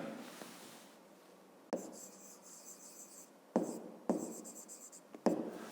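A pen or pencil writing a fifth-grade geometry problem about an angle on paper: steady scratchy strokes in several bursts separated by brief pauses, close and quiet with no talking.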